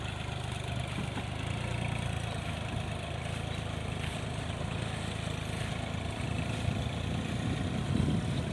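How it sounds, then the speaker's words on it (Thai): A farm tractor towing a trailer runs steadily nearby, its engine a continuous low mechanical drone with no talking, as it is used to spread liquid bio-fertilizer over soil. "รถไถพ่วงเท่รด"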